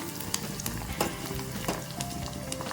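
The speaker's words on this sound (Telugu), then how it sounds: "ఆనియన్స్ అయితే మంచిగా కాగుతున్నాయి. సో ఇట్లానే ఫ్రై అవ్వాలి బాగా అన్నీ." Onions frying in a pan: a continuous close-up sizzle and crackle with occasional sharper pops and faint stirring scrapes, no talking.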